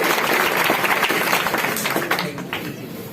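Audience applause at a prize distribution ceremony at an Islamic summer event, a dense, steady wash of many hands clapping together, close and loud, holding for the whole stretch with only a slight fade near the end.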